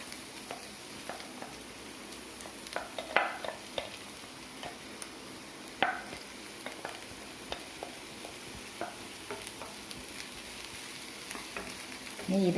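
Crushed coconut and sprouted green gram fry on a low flame, a soft, steady sizzle broken by intermittent spatula taps and stirring scrapes in the pan, fairly quiet with no talk.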